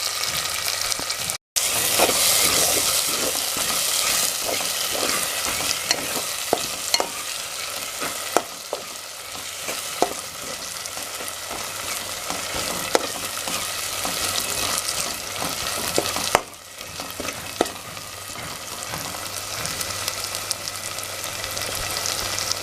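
Ginger garlic paste and masala paste sizzling in hot oil for a spicy fish gravy, a loud continuous frying hiss close by, broken by frequent clinks and scrapes of stirring, with no speech.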